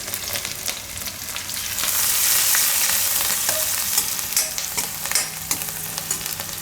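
Asafoetida dropped into hot oil sizzles loudly, the hiss swelling for a few seconds and then settling into a steady crackle with light stirring clicks, close and with no talk.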